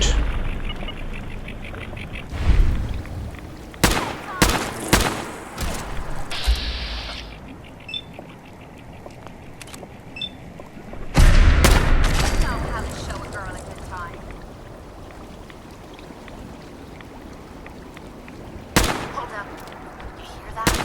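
Gunfire in the video game Fallout 4: scattered sharp shots and bursts, some loud and heavy, spread through a busy battle mix with duck-like quacking sounds and occasional talk.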